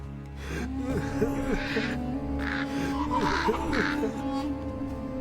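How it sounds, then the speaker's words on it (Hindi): A cartoon crow caws in several harsh, repeated calls with gasping, snorting vocal sounds, loud and close, filling the short scene. "सुबह होते ही कौवा वहां से रोता हुआ चला गया।"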